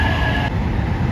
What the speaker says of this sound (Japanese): 21時24分着5000系近郊型電車快速マリンライナー高松駅到着